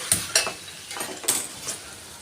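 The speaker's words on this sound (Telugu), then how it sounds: "చికెన్ పీసులు, లెగ్ పీసులు, అలాగే చికెన్ పీసులు వేసుకొని ఇలా బాగా కలుపుకోవాలండి" Chicken and leg pieces are stirred together in a pot, giving a few quick close clinks and scrapes of a utensil against metal.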